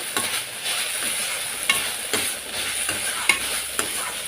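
Steady sizzling of broad beans (avarakkai) with grated coconut stir-frying in a pan, with periodic scraping clacks of a spatula stirring, close and continuous.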